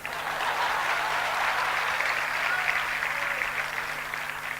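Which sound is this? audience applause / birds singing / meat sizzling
audience applause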